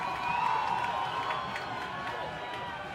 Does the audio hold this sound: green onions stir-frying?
no